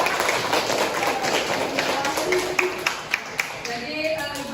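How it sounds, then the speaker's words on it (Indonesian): A classroom of students clapping for a classmate, a scattered run of hand claps at moderate distance that thins into a few separate claps toward the end. "tepuk tangan dulu untuk Hanifah"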